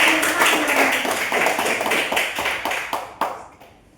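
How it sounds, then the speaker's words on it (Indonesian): Lively applause from a classroom group, many hands clapping in a dense patter that gradually thins out over a few seconds, ending in scattered claps. "Kasih dulu tepuk tangan dulu untuk kelompok 1 dulu."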